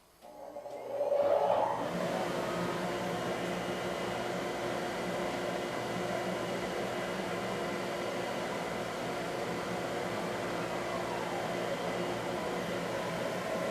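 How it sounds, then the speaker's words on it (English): A CNC machine and its chip collection system in a shop start up and settle into a steady, even mechanical drone with a constant hum, running without pause and with no talking. "I'm going to be running the CNC and the chip collection"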